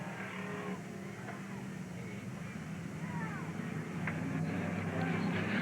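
Race cars circling Willamette Speedway, a distant engine drone building louder toward the end, with a track announcer calling positions over the top.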